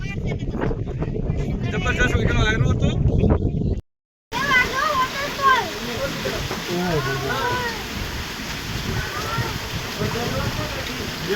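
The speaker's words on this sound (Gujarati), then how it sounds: "આવો નજારો જોવા મળે આવું પાણી પડે આવો વરસાદ" Steady broadband rushing of water falling in monsoon rain on Girnar hill, Junagadh, fills the scene, with a brief dropout partway through and voices talking faintly underneath.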